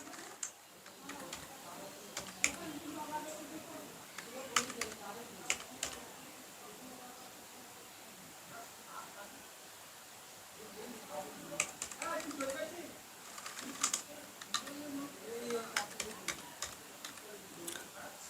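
Keys on a computer keyboard click in short bursts as a word is typed, faint and close, with quiet pauses between the runs of taps.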